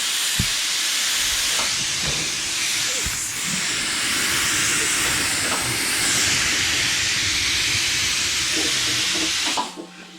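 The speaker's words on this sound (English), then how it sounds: "Actually, it is filling up" Compressed air line hissing steadily as it fills a tire during mounting on an Atlas TC589 tire changer, a loud, continuous close-up rush with a few faint clicks, cutting off abruptly near the end.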